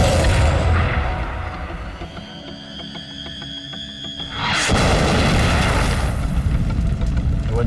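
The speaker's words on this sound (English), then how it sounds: "The 88, a modified anti-aircraft gun, accurately fires high-velocity anti-tank rounds that can penetrate the heaviest armor" A World War II 88mm anti-aircraft gun firing high-velocity anti-tank rounds during a desert tank battle at El Alamein. Loud, heavy rumbling roar fills the scene, eases briefly in the middle, then surges back with full force.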